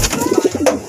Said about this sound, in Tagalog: ito yung kalapati natin noon na nakabalik